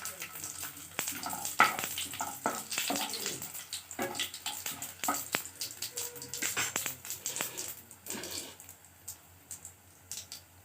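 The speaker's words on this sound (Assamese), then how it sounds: "এতিয়া মই ইয়াত দিম গোটা জিৰা 1/2 চামুচ, শুকান জলকীয়া 2টাও দি দিম।" Whole cumin seeds and two dried red chillies drop into hot oil and crackle. The busy sizzling comes with stirring clatter and sharp utensil knocks in irregular bursts, and a voice speaks faintly beneath the noise.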